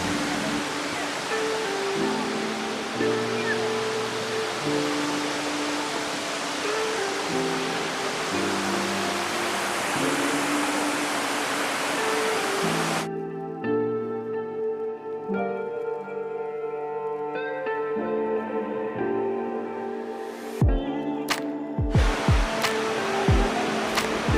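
Tat Kuang Si waterfall near Luang Prabang, Laos, roars as a continuous broad rush of falling water, then drops abruptly to a quieter background with a few sharp knocks near the end.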